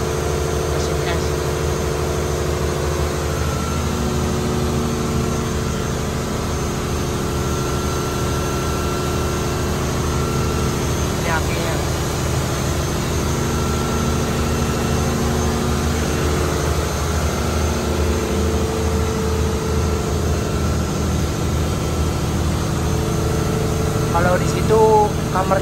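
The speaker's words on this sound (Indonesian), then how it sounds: "Kalau yang ini mesin es yang di atas itu, ini mesin es." An ice machine hums steadily aboard a Taiwanese longline fishing vessel, a loud, constant mechanical drone with engine-like rumble throughout and faint chirpy noises near the end.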